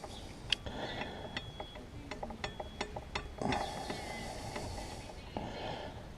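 Hand tool tightening 12mm front brake caliper bolts on a Suzuki GSX 250 R motorcycle: a run of quiet, close ratcheting clicks, then a brief scrape and a faint, steady mechanical whir.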